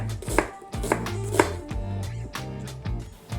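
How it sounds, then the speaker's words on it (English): A knife slices tomatoes and white onions on a cutting board, a series of crisp, close chopping taps at an uneven rhythm, with no talking. "We slice some tomatoes, white onions that we will caramelize"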